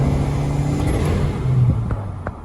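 A Nissan Sentra B15 Spec V with a newly installed 255 lph fuel pump, still untuned, drives along with a steady engine drone and road rumble heard from inside, the pitch shifting slightly as it moves.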